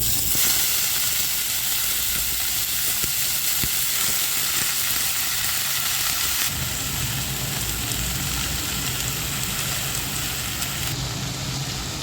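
Chopped amaranth greens sizzle and fry in a hot pan with green chillies and turmeric, a steady loud hiss that holds throughout, with no talking.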